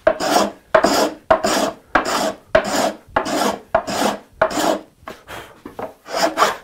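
A toothing plane rasps across a wood surface in about ten steady back-and-forth strokes, close and loud, each pass a short scratchy burst with a brief gap between.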